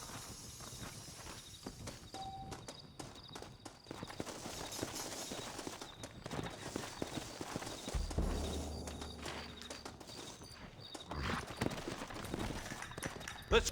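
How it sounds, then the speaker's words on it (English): Hooves clop along steadily, with a rapid rhythm like horses galloping in the video game Red Dead Redemption. Game-style effects and low rumbles sit in the background, and there is no talk. "Looks like Carlos left us some horses."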